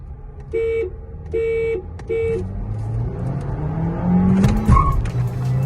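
Two VW Virtus GT sedans, one manual and one DSG, start a roll race from first gear after three short electronic beeps, then the engines rise loudly in pitch as the cars accelerate hard.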